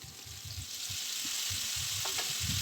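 Vegetables sautéing in oil with onion and tomato give a steady, close sizzle with soft low stirring thumps throughout, no voices present.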